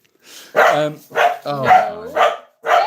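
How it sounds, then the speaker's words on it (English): A dog barks five times in a loose rhythm, each bark loud and close with a whiny, yelping edge, separated by short pauses. "What's he barking at?"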